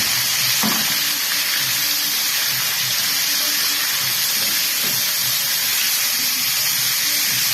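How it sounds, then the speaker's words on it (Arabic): Pieces of liver sauté in a hot pan for sandwiches, giving a loud, steady sizzle and hiss of frying with a few soft clinks of stirring, with no one talking. "انا هشوحها الاول بالشكل ده كده تاخد كله اللون بتاعها يتغير"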